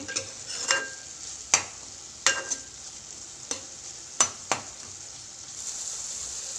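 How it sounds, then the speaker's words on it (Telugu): Tomatoes simmering in oil for a drumstick curry: a soft, constant frying hiss with sharp, evenly spaced clacks of a spoon stirring against the pan, close up and with no voices. "టమాటా మగ్గుతుంది."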